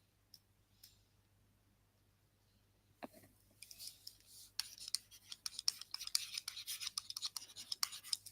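An equation is written by hand, starting with a few faint taps and then becoming a close, quick run of scratchy strokes and clicks of pen on paper.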